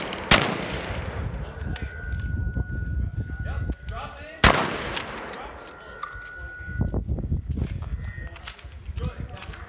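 Shotguns fire during a tactical shotgun class on a range, two sharp loud blasts several seconds apart with ringing decay, amid action handling clacks and an instructor's voice.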